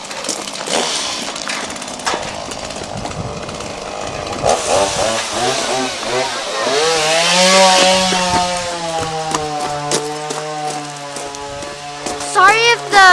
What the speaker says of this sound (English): grandpa and my dad are sawing they're taking the branches off the tree